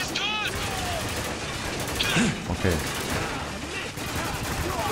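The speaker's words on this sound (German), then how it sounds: "Wir schnappen uns mal das MG." Machine gun fire in the war shooter video game Spec Ops: The Line, sustained gunfire and bursts over loud battle noise, with a voice speaking briefly.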